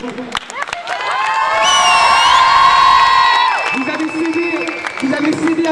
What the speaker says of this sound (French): je pense qu'on doit tous vous applaudir pour ce que vous venez de faire aujourd'hui